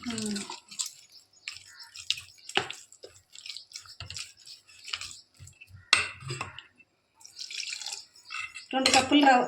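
Water is poured into ragi idli batter and stirred by hand in a bowl, giving soft intermittent wet squishes, drips and clinks close by, with quiet speech between them.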